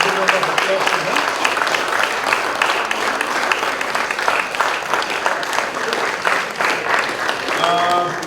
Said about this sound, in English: Give a round of applause to them.